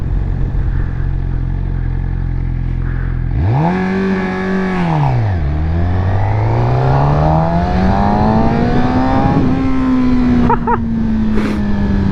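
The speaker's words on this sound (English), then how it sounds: "Let's try to get a fast stop right here. Check out my braking." A Suzuki GSX-R600 sport motorcycle engine runs loud and close, its pitch dropping sharply as the bike brakes hard to a fast stop, then revving back up and settling into a steady drone.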